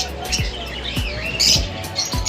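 Lovebirds and other birds in a bird shop chirping in quick bright bursts, with repeated dull thumps at a steady pace underneath.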